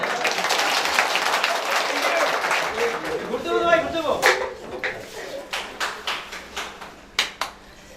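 Audience applause at an ambulance owners' association gathering, a dense crowd clapping that fades into scattered individual claps, with a voice talking over it.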